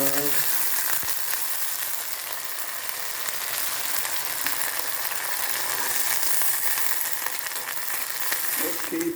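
Shrimp frying in a pan on a stove, with a constant, loud hiss of hot oil sizzling and occasional faint knocks and stirs, without speech.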